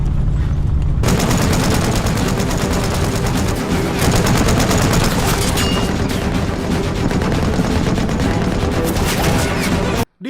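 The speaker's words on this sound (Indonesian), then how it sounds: "prajurit Rusia dengan senjata mesinnya menjatuhkan puluhan tentara Jerman" Machine gun fire from Russian soldiers in a war film, a dense, loud, continuous rattle of rapid shots with booming battle noise underneath, cutting off abruptly at the end.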